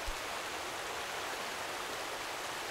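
Water in the video game A Difficult Game About Climbing, a steady, even rushing hiss like a stream or waterfall, continuous and without speech.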